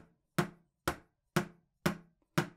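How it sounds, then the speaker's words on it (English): Flat flams on a snare drum: five crisp, evenly spaced strikes about half a second apart, each a sharp crack with a short decaying ring, played alone in a quiet room. "So a flat flam, if you didn't know, sounds like this."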